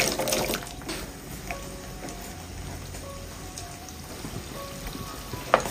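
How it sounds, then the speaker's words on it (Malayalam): Drained potato pieces sizzle in hot oil over a medium flame, a steady close crackle and hiss that runs through the whole stretch, with a sharper spatter near the end and no talking. "ഇനി ഉരുളക്കിഴങ്ങ് മീഡിയം ഫ്ലെയിമിലിട്ടിട്ട് തിരിച്ചും മറിച്ചിട്ട് ഒന്ന് ഫ്രൈ ചെയ്തെടുക്കാം."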